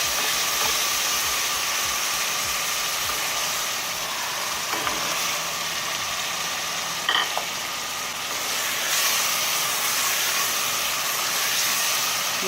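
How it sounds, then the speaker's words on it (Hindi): Masala spices being roasted in a pan for Lahori-style kofta chana, a steady broad sizzle and hiss that carries on evenly throughout, with no talk over it. "देखिए 3 से 4 मिनट हो गए मुझे मसाले को इसी तरह भूनते हुए।"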